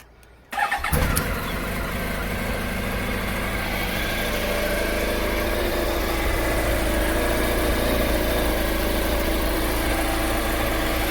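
A motorcycle engine cranks and catches, then settles into a steady, even idle in neutral that runs on without a break.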